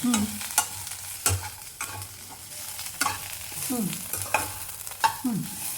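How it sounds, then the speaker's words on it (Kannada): Ridge gourd pieces are stir-roasted in a pan for chutney: a soft, steady sizzle broken by repeated sharp scrapes and clinks of a spatula against the metal, with no talk. "ಈಗ ಒಂದು 5 ನಿಮಿಷ ಹುರ್ಕೊಳ್ಳೋದು"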